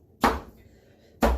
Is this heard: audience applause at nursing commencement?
no